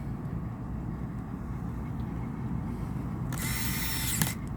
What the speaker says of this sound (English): And at this point, we screw these screws